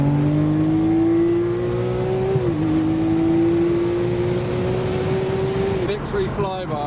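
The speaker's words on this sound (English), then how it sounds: "the 360 sounds amazing" Ferrari 360 engine revving while driving, a loud steady droning note that climbs slowly in pitch with a brief dip midway, then a shift and rising rev near the end.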